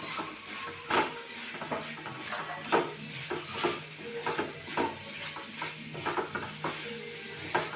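Bitter gourd stir-frying with crushed peanuts in a pan, a low sizzle under frequent rhythmic spatula scrapes and knocks, fairly quiet and close, no speech.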